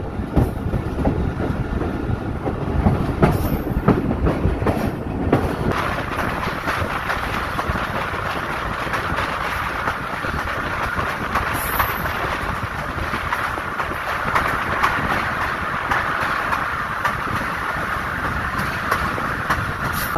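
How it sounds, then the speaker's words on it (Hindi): Kohat Express train running on the rails from Tarnol to Kohat, heard from inside the carriage as a steady broadband rumble and rattle lasting throughout, with no talk. "तरनोल से कोहाट के लिए एक ट्रेन चलती है कोहाट एक्सप्रेस के नाम से"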